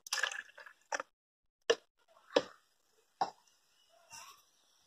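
Pineapple juice and half a glass of water being poured into a sweet mixture for pineapple ice cream, heard as a handful of soft, separate splashes and drips at close range with quiet pauses between them.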